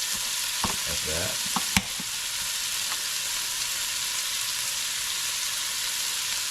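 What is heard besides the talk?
canned corned beef frying in a pan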